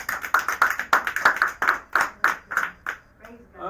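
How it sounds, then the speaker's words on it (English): A church congregation claps during a service, a run of roughly a dozen distinct claps at a steady rhythm that thin out toward the end. "And when we clap, we should clap loudly"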